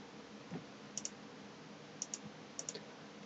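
A computer mouse clicks in quick pairs, three double clicks spaced about a second apart, crisp but quiet over a low room hum, with no talking.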